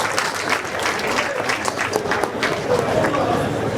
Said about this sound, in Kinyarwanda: Nabyo baneza amashyi tubibashimire nyiricyubahiro Musenyeri.